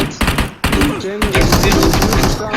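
Gunfire in the battle royale game PUBG Mobile, loud rapid automatic bursts close up in three stretches separated by brief breaks, with a voice talking over the shots.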